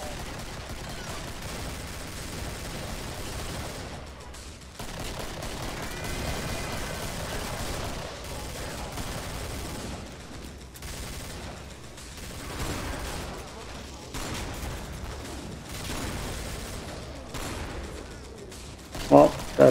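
Sustained gunfire in the video game Killing Floor, rapid shots and rattling bursts that run almost without pause and fade briefly at times, with voices talking over the shooting.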